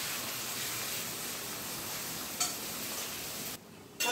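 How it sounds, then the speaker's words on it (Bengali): Onions fry lightly in a pan with a soft, even sizzle that holds steady throughout, broken by a faint click and a brief drop near the end, with no talking. "পেঁয়াজটা একটু হালকা ভাজা করে নেব।"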